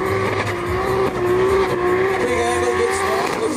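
A drift race car at the FD Pro2 season close screams at full throttle, engine revving high and tires squealing in a loud, sustained skid with the pitch wavering as it slides.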